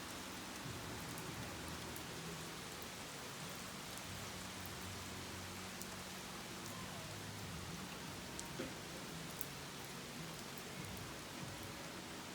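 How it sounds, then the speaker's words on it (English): Steady rain falls on a fiberglass camper, a dense, even patter of drops on the shell that continues throughout with no voices. "First rain on the camper, doing a rain test."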